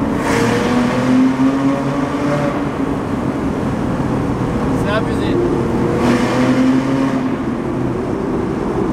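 A Porsche GT2 engine revs and accelerates with a steady loud roar heard from inside, rising and falling, while people talk over it.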